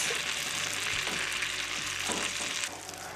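A bacon appetizer mixture bubbles and sizzles in a pan as it caramelizes, a steady close hiss with a few soft clinks of stirring, briefly dropping quieter near the end; no talking.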